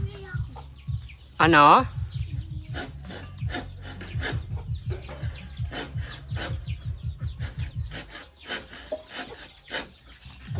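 Chickens scratching and clucking in a backyard garden where ube is being propagated, a loud squawk early on and a steady run of scraping, clucking sounds, with a brief spoken word over them.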